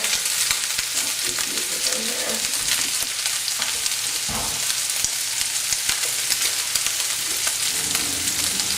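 Cured ham fries in a pan until browned, giving a steady, close sizzle and crackle with small pops and occasional stirring scrapes, with no talking.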